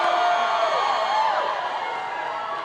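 A big political rally crowd in Asheville cheering and whooping continuously, a steady, loud wash of voices with a whistle rising above it.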